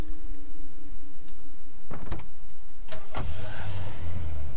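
Car sounds from the top-down action game Hotline Miami 2, with sharp door-like clunks and a rising engine rumble that settle into a low steady idle, loud and close with no talking.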